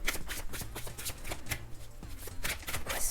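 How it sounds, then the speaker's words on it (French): Tarot cards riffle and slap in quick, close bursts as the deck is spread out across a surface, crisp and fairly quiet with short pauses between runs. "Premièrement, je vais commencer par étaler vos cartes."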